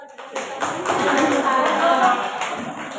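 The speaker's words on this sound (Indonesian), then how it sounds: "tepuk tangan dulu untuk kelompok dua" Audience applause at a teachers' workshop session in Bandung, a steady wash of many hands clapping that swells in after a brief quiet start and holds for a few seconds.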